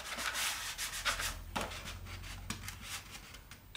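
Steady scratchy rubbing of abrasive on a model aircraft wing as the surface is sanded smooth, a close continuous hiss with repeated back-and-forth strokes and no talking.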